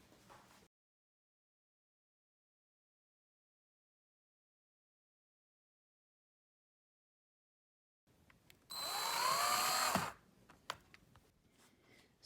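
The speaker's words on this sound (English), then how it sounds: "I'm gonna attach this to the table using the drill" A power drill fastens a frame to a tabletop in one short burst of rising motor whine lasting about a second and a half, set between long near-silence and a few faint clicks and handling knocks.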